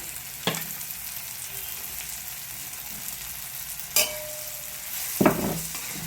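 A spoon scrapes through village-style cluster bean (gavar) bhaji in a pan as a spoonful of turmeric is mixed in. A few sharp, separate scrapes stand out over a steady, soft sizzle, with no voices.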